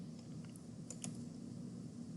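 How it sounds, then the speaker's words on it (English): Keys tapped on a computer keyboard at a Windows PC, a few quiet, scattered keystrokes over a low steady room hum, with no voices. "We're going to start typing in the word Control"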